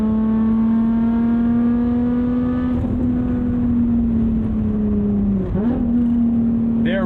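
A 2020 Lotus Evora GT holds a loud, steady engine drone that briefly dips and snaps back up in a quick throttle blip during a heel-toe downshift, close and continuous.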